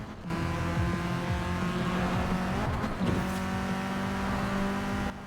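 A high-pitched racing engine of a 2017 Vuhl 05RR in Forza Horizon 4 drones steadily at speed, briefly shifting pitch midway before settling back into a sustained whine.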